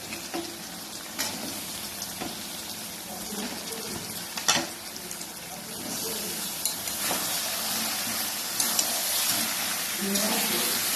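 Chicken pieces drop into a hot pan of cooked-down spice paste for chicken biryani, setting off a steady, fairly loud broadband sizzle with a few sharp clatters and stirring scrapes.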